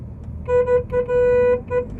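Road traffic at the Mhasa village fair in Thane district, with a close car horn sounding several short and one longer honk in quick succession over a low engine rumble.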